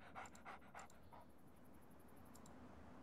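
Dogmeat, the dog from a Fallout video game, pants in quick rhythmic breaths for about a second, then goes quiet against a low steady background hum.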